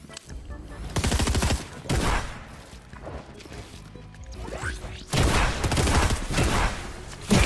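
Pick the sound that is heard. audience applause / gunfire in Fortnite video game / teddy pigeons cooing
gunfire in Fortnite video game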